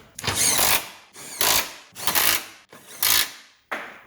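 An impact gun runs up a lower control arm bolt on a 2013 Fiat 500 Turbo in five close, loud rattling bursts, each lasting under a second with short pauses between.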